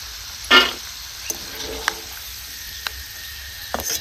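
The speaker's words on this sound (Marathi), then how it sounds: "खोबरं पण आपण रंग बदलत तोपर्यंत तळायचे." Grated dry coconut frying in hot oil for chivada, a soft steady sizzle with a brief louder burst near the start and a few faint clinks of a spoon against the pan.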